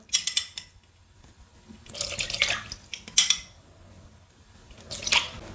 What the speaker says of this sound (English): Next up, 3 tablespoons of apple cider vinegar.